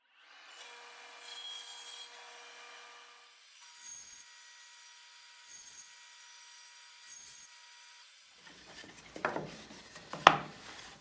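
A handsaw works through a wooden board, cutting off planer snipe to make two 5-inch pieces; a steady rasping stroke runs for several seconds, then sharper, louder knocks and scrapes of handling follow near the end.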